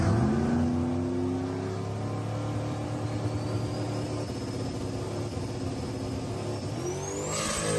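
Turbocharged stock-bottom-end 5.3 V8 car with a VS Racing turbo makes a drag pass, its engine droning loud and steady with rising harmonics as it pulls through the run, a brief high whine swelling near the end.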